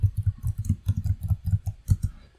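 Mouse clicks on a lock button in macOS settings, heard as a quick string of close, dry taps in an uneven rhythm, fairly quiet, with no voices.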